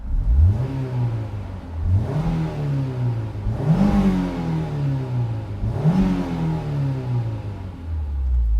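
A Honda S2000 engine revs close by in three rising-and-falling sweeps, each climbing sharply then easing back to idle, loud and alone with no talk.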